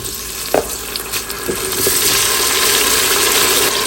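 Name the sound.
frying tomatoes and spices in a pot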